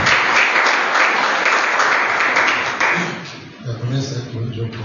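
A church congregation at an evening service claps in a loud, dense burst of applause for about three and a half seconds. The clapping then fades, and a voice carries on alone.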